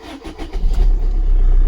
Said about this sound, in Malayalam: അപ്പോൾ ഞാൻ വണ്ടി സ്റ്റാർട്ടാക്കിയിട്ട് നിങ്ങൾക്ക് വേറൊരു സംഭവം മീറ്ററിൽ കാണിച്ചു തരാം കേട്ടോ.